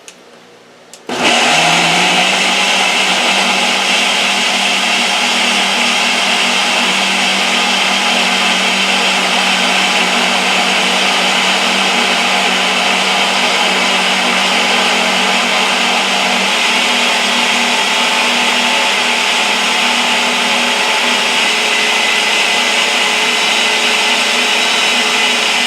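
Blender on its boost setting mixing a cranberry, strawberry and banana smoothie, starting abruptly after a brief quiet moment and then roaring loudly and steadily for over twenty seconds, with no talking.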